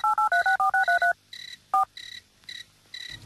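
Touch-tone telephone keypad being dialed, a rapid string of about eight beeps followed by a lone tone and then a repeating ringback pattern on the line, fairly clear with no talking.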